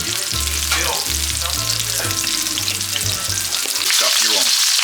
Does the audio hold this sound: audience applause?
no